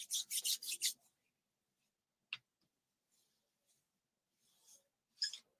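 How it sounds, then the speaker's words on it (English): Handheld sandpaper rubs over a craft surface in a short burst of rapid close scratchy strokes, followed by near silence with a few faint isolated scrapes and one more brief rasp at the end. "this is just a handheld sandpaper"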